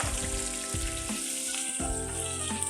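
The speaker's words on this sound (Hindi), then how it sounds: "प्याज को थोड़ा सा सौते करना है, इतना कि बस ये सॉफ्ट हो जाए।" Onions sautéing over medium flame in a pan, a steady loud sizzle and crackle of frying with a few soft stirring scrapes, close and continuous with no talk.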